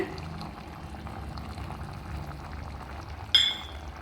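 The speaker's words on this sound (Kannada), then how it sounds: "ಈಗ ಚೆನ್ನಾಗಿ ಫ್ರೈ ಆಗ್ತಾಯಿದೆ ಇದು" Biryani masala fries in a pan with a low, steady sizzle and bubbling, and a single sharp metallic clink sounds near the end.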